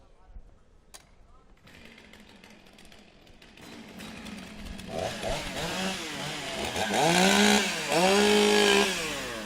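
Several chainsaws revving and idling as competitors warm up their saws at a STIHL Timbersports women's and rookie championship in New Zealand, starting quiet and building to loud, rising engine whines near the end amid crowd and announcer noise.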